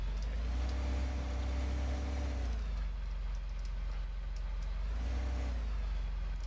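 An old tractor engine in Farming Simulator 15 drones loudly and steadily at close range, its low rumble rising in pitch briefly twice as the revs climb and settle.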